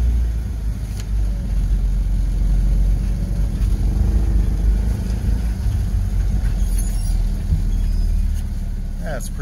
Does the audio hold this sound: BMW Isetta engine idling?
yes